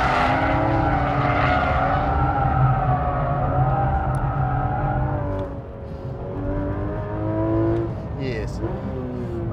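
A Porsche 991 GT3 RS engine wails at high revs as the car slides on a track with electronics off, pitch rising and dipping through the slide, with someone speaking over it.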